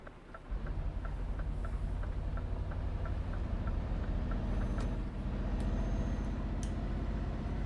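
A Scania truck driving in Euro Truck Simulator 2, its engine a steady low drone that holds at a constant level throughout, with a faint repeating tick above it.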